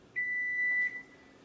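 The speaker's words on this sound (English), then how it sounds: "Oh, there's my timer." A kitchen timer gives one steady high-pitched electronic beep lasting under a second, close and clear against a quiet room, with no talking.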